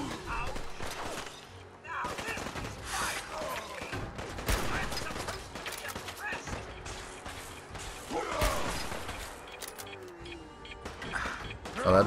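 Sniper and other gunfire in the video game Fallout 4 keeps going as dense, busy battle noise, with repeated shots and thuds layered over each other at moderate loudness.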